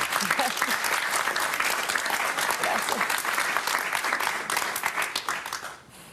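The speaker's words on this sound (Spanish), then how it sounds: "si quieren aplaudir, no se corte" Audience applause during a Spanish-language talk with a libertarian speaker, dense steady clapping from a crowd filling the room, loud and sustained before tapering off near the end.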